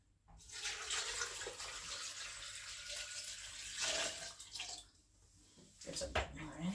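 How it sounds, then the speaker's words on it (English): Water pouring from a tap into a bowl in a home kitchen, a loud, close, continuous rushing stream that briefly dips, then resumes and stops, with a voice speaking near the end. "get some water in the bowl."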